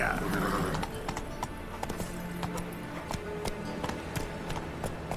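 Horse hooves clip-clop at a steady galloping rhythm in The Witcher 3, with a whinny early on over a busy game soundscape, and a voice speaks briefly.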